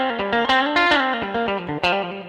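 An electric guitar plays a quick run of distorted notes through an analog reverb pedal, each ringing into a wash of reverb that lingers between them.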